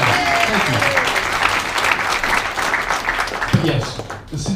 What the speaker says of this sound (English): Yeah, let's give a round of applause.